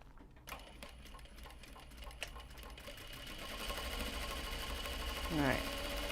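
A sewing machine runs close by, stitching the long handle onto a fabric knot bag, starting with slow separate clicks that quicken into a steady whir of needle strokes, with brief talking at the start.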